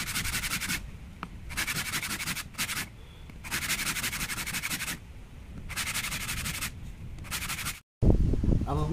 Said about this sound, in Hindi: तो हम क्या करेंगे इसको रेजमाल के ऊपर हल्का सा घिस